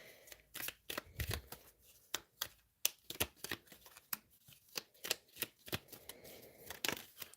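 Tarot cards riffled and shuffled in a quick run of crisp slaps and flutters, close and fairly loud, with short pauses between bursts and no talking.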